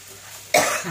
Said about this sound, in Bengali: কাশি উঠে গেছে।